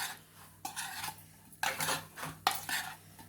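Fish mixture for ilisha mas being mixed in a bowl, scraping and clinking of a utensil in several rough strokes, close and clear, with no talk.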